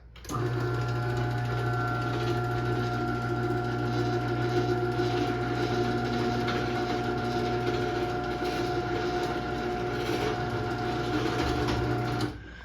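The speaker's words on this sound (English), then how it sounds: "it's obviously not the quietest opener ever" A Sears Craftsman 139.53637SRT garage door opener runs for about twelve seconds, a steady close mechanical whir and hum with a constant drive tone, starting and stopping abruptly.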